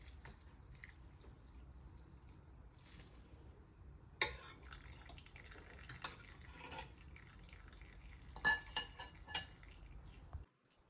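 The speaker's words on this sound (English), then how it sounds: "So I'm just going to strain the noodles" Cooked Ibumie Mi Goreng curry instant noodles are strained from a pot, with quiet dripping water and a few metallic clinks and knocks of the pot and utensils, ending in silence.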